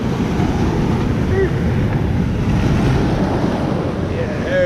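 Ocean waves wash over and drain off rocks at a Carlsbad or Oceanside beach in San Diego, a loud steady roar of surf and swirling water with wind buffeting the microphone throughout.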